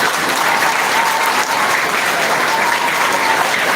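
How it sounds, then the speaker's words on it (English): Children applauding at a school investiture ceremony, a dense, steady wash of many small hands clapping together, loud and continuous from start to finish. "Can we clap for the newly elected, the band, and you all?"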